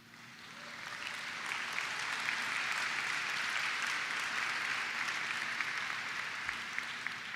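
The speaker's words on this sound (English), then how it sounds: "We applaud you, the class of" Audience applause swelling at a 2021 commencement ceremony for the graduating class, rising quickly and then holding as a broad, steady wash of clapping from a large crowd, heard at some distance with no talk over it.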